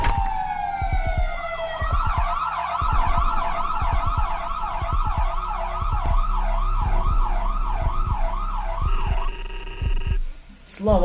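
A loud police siren wails up and down in a fast rising-and-falling pattern nearby, over a steady rhythmic thudding beat.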